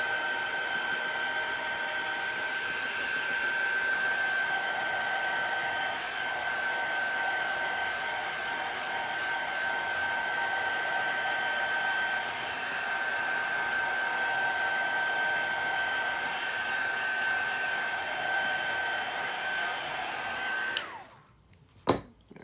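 A hair dryer blows steadily on wet chalk paste, a constant close whooshing hum with a high whine that runs for most of the clip before being switched off with a couple of clicks at the end.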